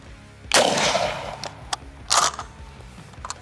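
A 12 gauge shotgun fires buckshot at body armor with two sharp outdoor blasts about a second and a half apart, each with a short decaying rumble, followed by small clicks and rattles.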